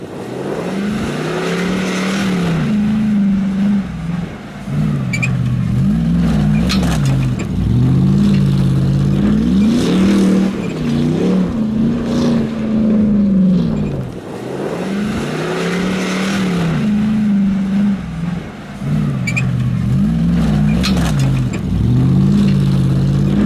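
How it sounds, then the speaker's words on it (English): Hummer H2 SUV engine on a freestyle drive, revving up and easing off in repeated cycles, loud and close with a steady growl between throttle blips, no talk. "a freestyle drive from the Hummer."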